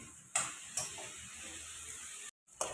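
Ivy gourd (tondekai) frying in hot oil in a pan, a steady, soft sizzling hiss broken by a few light ticking knocks of stirring, close and without talk.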